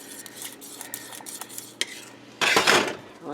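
Bread stuffing gets stirred in a pot with a metal spoon, giving repeated scraping clinks against the pot and then a burst of louder rough scraping toward the end.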